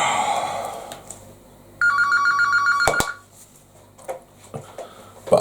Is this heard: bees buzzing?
no